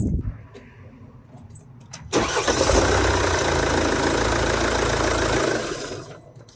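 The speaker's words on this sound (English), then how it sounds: "I'm just going to make sure the car still starts" A Mercedes-Benz C220 with the OM651 2.1 CDI diesel engine; a faint jangle of keys comes first, then the engine cranks and catches abruptly and settles into a loud, close, rough diesel idle before fading.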